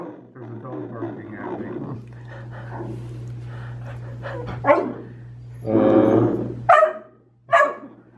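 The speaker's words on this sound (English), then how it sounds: "Oh, there's a dog barking" A dog barks several times in sharp bursts, loud and close, between stretches of a low engine hum and quiet background.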